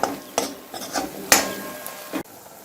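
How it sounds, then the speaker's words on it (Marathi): Spices are stirred in hot oil in a pan for Kolhapuri mutton rassa, with several sharp clinks and scrapes of a spoon against the pan over a soft, faint sizzle. "हे मसाले 1 मिनिट छान परतून घेऊ"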